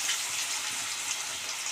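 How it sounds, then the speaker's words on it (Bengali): Potatoes rubbed with salt and turmeric frying in hot oil in a wok, a steady bright hiss of sizzling that stays even and close throughout. "এই আলুগুলো আমরা লাল লাল করে ভেজে তুলে নেব"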